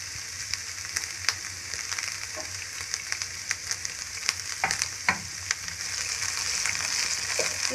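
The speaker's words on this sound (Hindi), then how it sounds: "इसे हम ब्राउन होने तक फ्राई करेंगे।" Chopped onion, one large one, frying in oil in a pan while cooking a dhaba-style paneer curry, giving a steady close sizzle with scattered crackles and pops and occasional stirring clinks, no talk.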